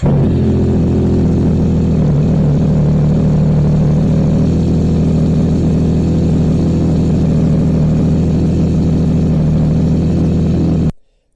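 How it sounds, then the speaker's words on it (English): A 2024 Yamaha MT-09 motorcycle fitted with a DNA air filter and tank runs at a loud, steady, close engine drone for about eleven seconds, then cuts off abruptly. "warmed up the engine a bit"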